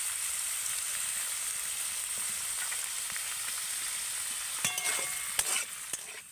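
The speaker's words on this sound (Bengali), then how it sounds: "গাজর আলুটা কিন্তু আমার ভাজা হয়ে গেছে" Carrots and potatoes frying in oil with a little salt, a constant soft sizzle from the pan with a few spatula knocks and stirring sounds toward the end.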